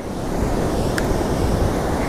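Large ocean waves crash on a rock-free beach at Guhagar in Ratnagiri on the Konkan coast, a loud, continuous roar of surf mixed with wind rumble and no voices.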